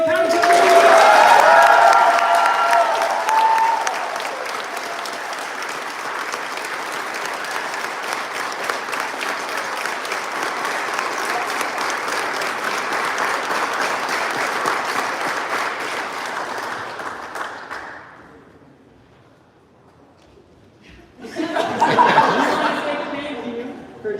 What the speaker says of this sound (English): Please give a big round of applause for the 2023 County Teacher of the Year.